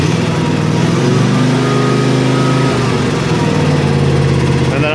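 A Cub Cadet lawn tractor engine runs close and loud, a steady throbbing drone whose pitch and intensity climb slightly partway through as the revs come up.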